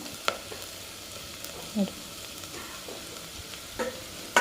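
Ingredients for Iyengar-style avare bele sambar dry-roast in a pan, with soft continuous sizzling broken by a few sharp scrapes and clicks of stirring, close and fairly quiet.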